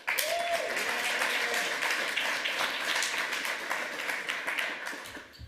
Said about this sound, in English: can I give a round of applause for Chantal